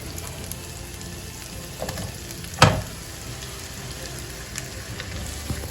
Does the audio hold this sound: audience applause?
no